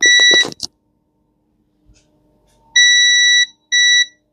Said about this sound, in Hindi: मीटर बजर मोड पे रखेंगे।